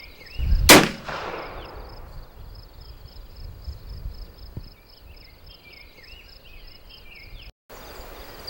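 A single sharp black powder rifle shot cracks loudly near the start, followed by a decaying rumble and then quiet outdoor ambience with insects chirping steadily.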